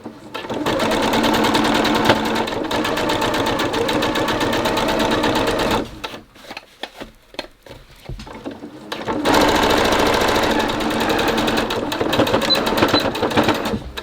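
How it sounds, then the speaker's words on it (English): Sewing machine stitching channels into a fabric face mask: a loud, close, rapid mechanical chatter runs for about six seconds, pauses with light handling noises, then resumes steadily. "Channels are being sewn."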